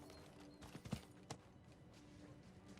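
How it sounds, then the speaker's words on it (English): Horse hooves clip-clopping in the video game Diablo 4, a short run of quiet, close hoof strikes followed by faint steady ambient game sound. "I honestly think our character might be faster than the horse."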